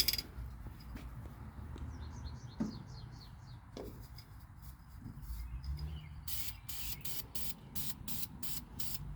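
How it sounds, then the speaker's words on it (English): Hissing bursts of aerosol spray paint over an International Scout 800's wires and hoses, several short puffs then a rapid rhythmic series near the end, close by over a low background rumble. "spray everything down now without really worrying about too much where the paint's going"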